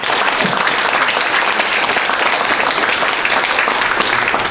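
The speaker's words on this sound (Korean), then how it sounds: "박수 한번 보내주시죠" A large seated audience gives a chairman steady, dense applause that stays loud and even throughout, a close wash of many hands clapping with no voices standing out.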